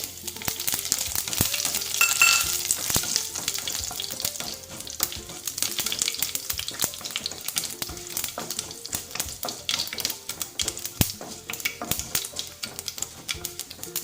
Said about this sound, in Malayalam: കടുക് പൊട്ടുന്നുണ്ട് ഇതിലേക്ക് ഞാൻ ഒരു ഉണക്കമുളക് പൊട്ടിച്ചതും ഒരു ചെറിയ തണ്ട് കറിവേപ്പിലയും ഇട്ട് കൊടുക്കുന്നുണ്ട്